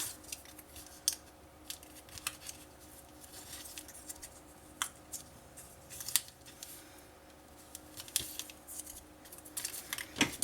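Scissors snip at an angle through a narrow folded paper strip for scrapbooking, producing a series of crisp, close cuts in an irregular rhythm with quiet handling noise between them.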